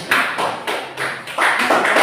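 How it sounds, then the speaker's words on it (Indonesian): A classroom of students claps for a presenting group, a few uneven bursts of hand claps close by, loud and brief, with no talk. "Berikan dulu tepuk tangan."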